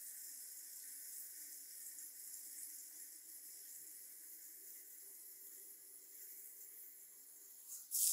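Water runs from a tap into a container in a steady, bright hissing stream that holds evenly throughout, then ends with a sudden louder splash or clunk.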